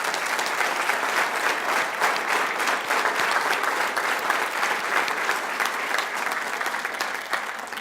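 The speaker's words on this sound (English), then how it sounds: "you deserve another round of applause." Sustained applause from a business meeting audience honoring award recipients, a full, even roar of many hands clapping for about eight seconds before tapering slightly.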